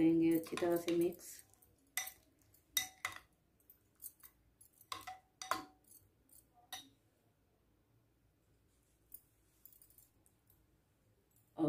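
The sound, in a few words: mixing raita with cucumber and coriander in a bowl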